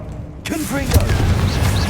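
A Confringo spell explosion in Hogwarts Legacy, a sudden booming burst followed by crackling debris, with a voice speaking over it.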